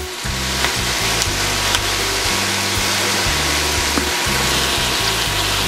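Sisig seasoned with sweet paprika sizzles loudly and steadily in a hot pan while being stirred, with a continuous frying hiss and low scraping motion throughout, no voices.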